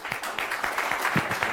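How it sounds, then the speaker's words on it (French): An audience at a startup demo day in Paris gives brief, scattered applause, a short run of uneven claps at moderate distance. "c'est les startups qu'il faut applaudir pour leur super présentation."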